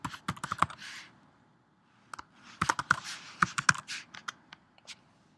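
Typing on a computer keyboard, a short burst of key clicks, a pause, then a faster run of taps, close and clear with no talking.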